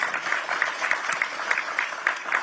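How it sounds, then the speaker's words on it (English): Audience applause after a political line about the federal government, a steady wash of many hands clapping at moderate volume with no talk over it. "I think you get applause on that one."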